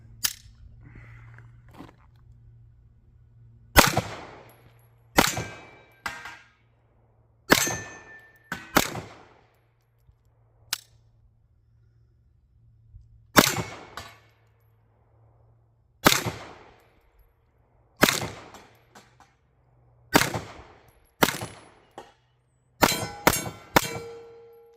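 A Girsan MC P35 PI 9mm pistol, a Browning Hi-Power clone, fires about a dozen shots, each ending in a sharp metallic clang off steel targets, spaced irregularly with quick doubles near the end over a low steady hum.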